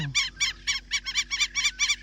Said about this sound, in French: Ils sont beaux quand même ces oiseaux aussi.